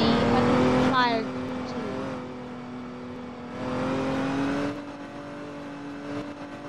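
A car drives in the Roblox video game, its engine hum steady and prominent, with revving rises and falls in pitch throughout. A person talks over the engine sound.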